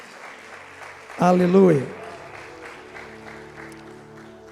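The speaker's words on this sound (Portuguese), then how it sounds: "Dê um aplauso ao Espírito Santo." A church congregation applauds for the Holy Spirit, steady clapping running under a sustained keyboard tone while one voice shouts out briefly near the start.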